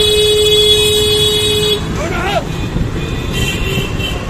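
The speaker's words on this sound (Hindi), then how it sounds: "इतना ट्रैफिक होने लग गया हल्द्वानी में भी अब।" Busy road traffic in Haldwani, India: a loud sustained car horn blares at first, then shorter toots and engine noise follow, with someone talking over the street din.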